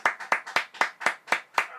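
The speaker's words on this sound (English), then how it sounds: "If not, just clap anyway." Clapping in support of health workers: a single person's hands strike about seven times in a steady, close, moderately loud rhythm, each clap sharp and separate, with no voices.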